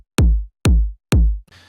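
An Ableton audio track run through a saturator gives three punchy, heavy booming hits with deep decaying low end, evenly spaced and loud, then a short gritty burst at the end.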